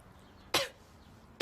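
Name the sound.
cough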